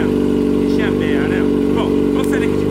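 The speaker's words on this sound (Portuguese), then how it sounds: "vamos pegar aqui a motoca, vamos sair daqui de casa, vamos dar uma volta" A motorcycle engine idles and putters in a steady, loud, low rhythmic throb, heard close up while someone talks over it.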